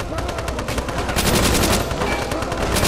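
A Thompson submachine gun rattles out sustained automatic fire in Call of Duty Nazi Zombies, loud, dense and close, the rapid shots blurring into one continuous burst with no pause.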